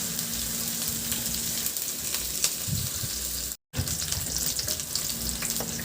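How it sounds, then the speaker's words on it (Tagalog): Ginger and garlic sautéing in hot oil in a pan, a dense continuous close sizzle with faint stirring clicks and a brief cut to silence midway, no talk. "Magpainit na ako ng mantika sa kawali at igisa ko na rin yung luya. Isunod ko na rin ilagay yung bawang."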